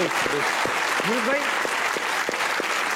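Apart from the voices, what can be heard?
audience applause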